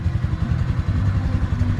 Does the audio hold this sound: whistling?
no